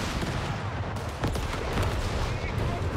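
An artillery barrage lands in Company of Heroes 3 during a 2v2 match, heard as a dense, continuous roar of shelling with scattered sharp impacts under a loud battlefield din.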